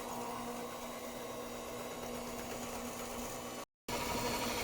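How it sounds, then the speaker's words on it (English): Electric egg beater whirring steadily through boxed cake batter made with whole milk, a close, continuous motor drone that cuts out briefly near the end and then resumes. "And of course my trusty egg beater. We're just gonna beat this till smooth,"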